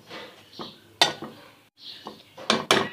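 Samosa keema filling is mixed with spices in a pot. A spoon scrapes and clinks against the metal in close, uneven bursts, with brief pauses between strokes.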